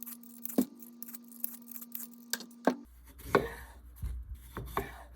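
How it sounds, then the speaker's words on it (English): Knife chopping peeled daikon radish on a cutting board, a series of sharp separate cuts at an uneven rhythm, close and fairly quiet, with no talking. "Now go ahead and cube it into 1-inch cubes."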